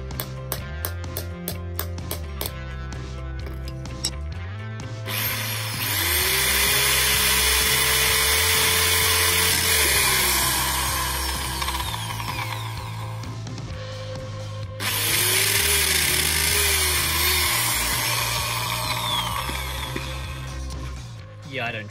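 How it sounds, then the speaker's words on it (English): A handheld power drill bores into a steel tube held down by weights, whining in two long loud bursts with rising and falling pitch, separated by quieter clicking and handling sounds. "but I didn't like the way that drill sounded"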